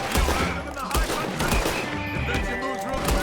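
Bursts of gunfire from the video game Red Dead Redemption 2 crackle through a dense, loud battle mix, shots coming in rapid clusters against rumbling background noise.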